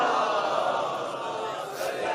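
A large crowd recites salawat together in unison, a loud, dense roar of many voices that holds steady throughout the short moment.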